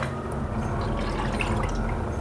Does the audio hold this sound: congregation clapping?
no